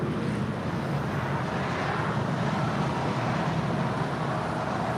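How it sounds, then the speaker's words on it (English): A JetBlue Airbus A321 departs LAX as a broad, continuous engine roar with heavy low rumble, steady in loudness and some distance off, with no talking. "This is JetBlue 100 departing to Fort Lauderdale"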